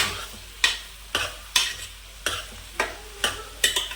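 Onion, green chilli and capsicum pieces being stirred in a frying pan, a spoon scraping through the mix in about eight distinct sweeps over a soft continuous sizzle, close and alone without talk.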